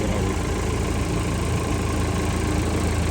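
A Volvo 1110 combine harvester's engine idles steadily and close by while the header is lifted, a continuous low rumble with no voices.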